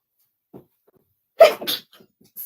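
A short, sharp sneeze bursts out after a faint sniff, followed by a smaller second burst, close and otherwise quiet.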